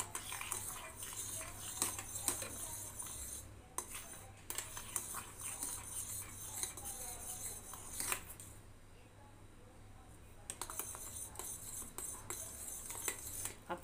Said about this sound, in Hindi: ये देखिए लगातार चलाते जा रही हूँ, ये गाढ़ा होते जा रहा है